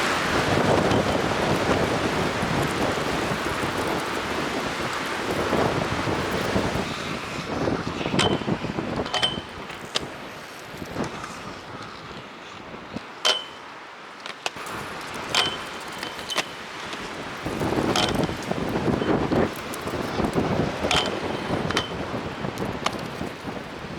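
Strong coastal wind buffets the microphone in continuous loud gusts with surf rolling beneath, rising and easing in waves, with brief lulls and sharp rattles, no talking.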